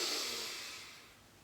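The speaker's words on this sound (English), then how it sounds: "So take a deep breath." A deep breath is drawn in as a soft, airy hiss that fades gradually over about a second, heard close and alone.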